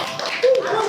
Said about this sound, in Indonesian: tepuk tangan dulu buat gue.